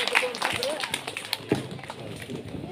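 An audience at a village prize-giving event claps in scattered, uneven bursts to welcome a prize donor, with a voice talking over the sharp taps.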